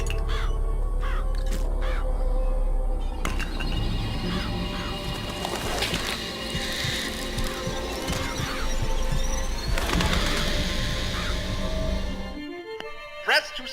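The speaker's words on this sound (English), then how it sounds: "Press to summon murderous crows." Murderous crows summoned in BioShock Infinite caw and squawk over a dense game soundscape with a steady low hum, their calls rising out of the mix for about twelve seconds before the sound cuts off.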